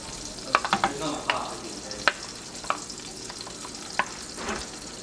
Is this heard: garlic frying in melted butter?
yes